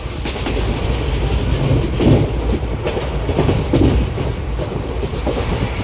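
The Meenakshi Express passenger train runs through Sathirakudi railway station at speed, loud and close, wheels clattering over rail joints in a rapid rhythmic clack with a broad rumbling roar.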